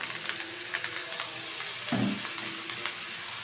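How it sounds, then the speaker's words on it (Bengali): Cut pointed gourd stalks and potato pieces go into a hot pan with oil, and a steady close sizzle gives way to a brief louder hiss and splatter as they land. "দিয়ে দিচ্ছি কেটে রাখা পটলের লতি আর আলু"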